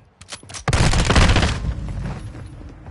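Burst of rapid gunfire in a military shooter video game, a few sharp shots followed by a dense, loud volley that trails off, with no talk over it.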